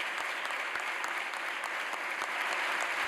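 Sustained applause fills a Spanish Congress chamber as deputies welcome back a Unidas Podemos deputy returning after overcoming cancer, a dense, steady wash of clapping hands throughout with no speech.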